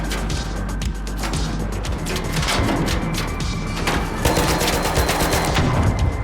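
Dense, continuous gunfire from the video game ARC Raiders, with rapid overlapping shots and heavy impacts that keep the whole stretch loud and busy.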